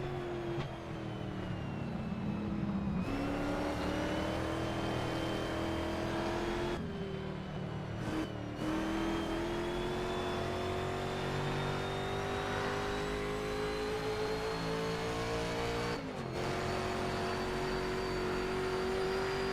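Historic sportscar in an online race at Riverside, its engine droning loudly and climbing in pitch through repeated gear shifts, with brief lifts of the throttle between strong accelerations.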